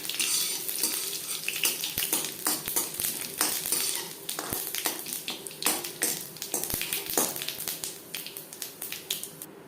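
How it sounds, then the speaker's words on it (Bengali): Dry red chillies, whole cumin and a bay leaf fry in hot oil, crackling with dense sharp pops and a steady sizzle that run close and continuous throughout, with no voices. "শুকনো লঙ্কা ভেজে নেওয়ার পর দিয়ে দেবো গোটা জিরে,"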